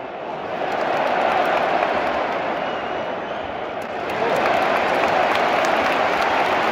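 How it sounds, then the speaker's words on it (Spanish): A football video game crowd of Liverpool fans applauds in a continuous, dense wash of clapping that swells slightly partway through, with no voices. "Muy bien, la gente de Liverpool aplaudiendo y aplaudiendo."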